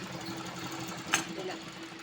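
A sewing machine hums steadily as it stitches a blouse, a close continuous whirring drone with one brief sharp click partway through.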